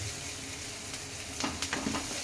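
Onions frying in a pan with okra and potato, a continuous close sizzle with a few light stirring scrapes near the end, steady and fairly loud with no talk.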